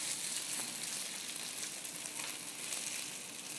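Adana kebab sizzles in a grill pan with a dense, even frying hiss that holds steady throughout, close and fairly quiet, with no talking.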